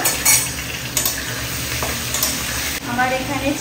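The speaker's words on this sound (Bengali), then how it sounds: "তারপরে এখানে ম্যারিনেট করা চিকেনগুলো দিয়ে দেব, দিয়ে 3-4 মিনিট মতো একটু ভেজে নেব" Marinated chicken pieces frying in a pan with cardamom and cinnamon, a loud continuous sizzle with scraping stirs and utensil clinks against the pan.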